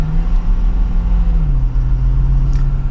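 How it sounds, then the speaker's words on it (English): A 2023 Ford F250 Super Duty XLT pickup accelerating, heard from inside the cab: a steady, deep engine drone under a low road rumble, with the pitch dropping slightly midway as it shifts gear. "And we'll give it another acceleration."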